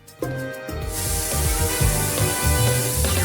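A short burst of spraying makeup foundation, a sharp hissing spray that starts abruptly and keeps going steadily over a light background tune.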